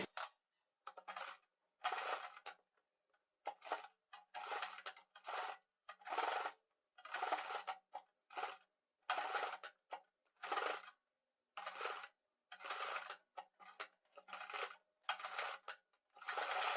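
Domestic sewing machine stitching a sleeve alongside its piping, running in a rapid series of short bursts separated by brief pauses, close and clear with no talk.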